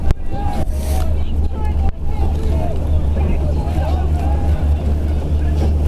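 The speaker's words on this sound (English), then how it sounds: "The wind is coming straight down the course, and there are white caps in every lane." Strong wind roars across an open rowing course on a lake with whitecaps in every lane during a collegiate heavyweight varsity eight race, a steady low rumble with gusty buffeting that drowns out other sound.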